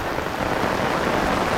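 Heavy rain pouring onto a flooded river, a loud, dense, unbroken hiss of drops close to the listener, with no voices.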